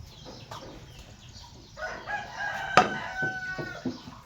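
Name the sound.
chicken clucking and crowing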